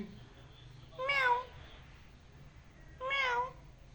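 A parrot imitating a cat, giving two short, clear meows about two seconds apart, close and alone against a quiet room.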